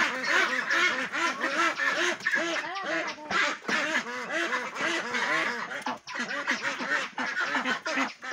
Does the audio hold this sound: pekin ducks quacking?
yes